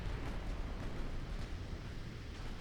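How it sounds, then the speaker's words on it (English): A torpedo strikes the battleship Richelieu in a naval warfare video game, producing a loud, sustained rumbling explosion that roars continuously for a few seconds with no voices. "Torpedo hit on the Richelieu"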